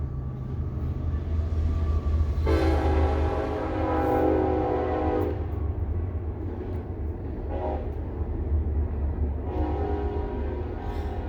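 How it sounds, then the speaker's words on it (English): A train passes close by with a steady rumbling roll of wagons. Its loud horn blasts for about three seconds, then gives two shorter, fainter toots. No one speaks. "There goes that train."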